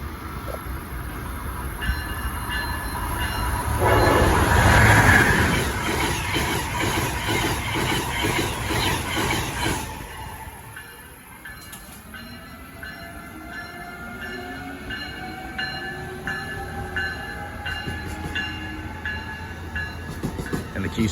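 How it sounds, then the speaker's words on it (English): A Northeast Regional passenger train passes Princeton Junction: a loud rushing roar of wheels and cars builds, peaks, and then fades into a long, squealing, rumbling tail as the train moves away. "Comes the Northeast Regional headed for Norfolk,"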